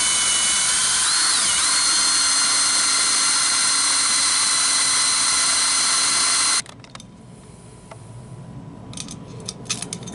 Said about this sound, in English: you're going to drill holes in this L-shaped aluminum